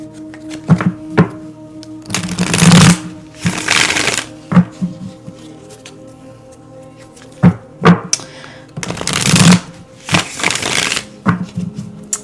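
A deck of tarot cards is shuffled close by in several bursts, each a rapid papery riffle followed by soft thumps and taps as the deck is squared, with short quiet gaps between.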